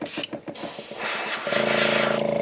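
An airbrush sprays paint onto a bass fishing lure, producing a steady close hiss of air with a few short on-off bursts before settling into a continuous spray with a faint compressor pulse underneath.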